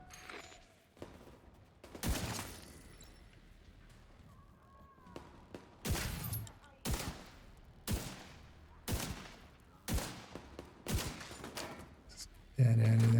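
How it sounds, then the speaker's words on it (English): Sharp bursts of video game gunfire crack out in a steady series of loud, separate volleys roughly every second, with quieter gaps and a voice talking between them. "Opening fire!"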